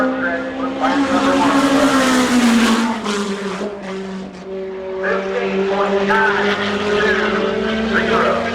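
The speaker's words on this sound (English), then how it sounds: "Here comes Sarah, down the front stretch with lap number" A midget race car at a Winchester, Indiana oval roars loudly down the front stretch, its engine note holding steady and close with a slight rise and dip, while an announcer talks over it.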